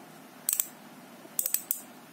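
Weapon Fever sealed bearing bicycle hubs give two short bursts of bright, fast clicking a moment apart, close but fairly quiet over faint background hiss, with no talking.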